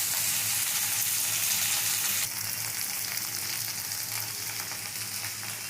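Okra frying in a pan for Bengali masoor dal, a steady close sizzle with a faint stirring texture that drops slightly in loudness partway through, with no voices.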